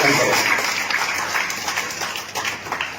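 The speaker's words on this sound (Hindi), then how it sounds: "अभिनंदन जोरदार तालियों के साथ करूं" An audience at a senior citizens' honour ceremony gives a loud burst of applause, a dense wash of many hands clapping that gradually thins over a few seconds.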